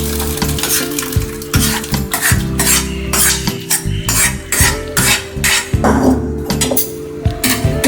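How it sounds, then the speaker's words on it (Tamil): Cooked rice, dal and boiled vegetables for bisibela bath being stirred and mixed in a pot, with steady wet scraping and sizzling, metal spoon clinks against the pan, loud and close throughout. "இதை நல்லா மிக்ஸ் பண்ணி விட்டுக்கலாம்"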